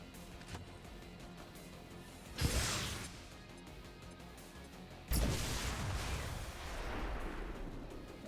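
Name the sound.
grenade thrown and exploding in XCOM video game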